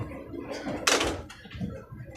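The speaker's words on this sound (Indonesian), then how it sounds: "banyak banget yang sering ngebuka pintu ya, mau masuk maupun mau keluar" Passengers open a carriage door on the Bengawan economy train from Jakarta to Jogja/Solo. It lands as one loud clunk under the steady rumble of the carriage, heard from a seat near the door.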